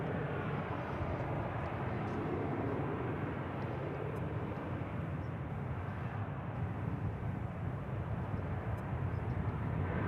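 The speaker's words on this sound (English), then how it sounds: "It's an Airbus A321." Airbus A321 airliner flying past at Dallas/Fort Worth airport, a constant dense jet roar that stays at an even level from start to end, no voices over it.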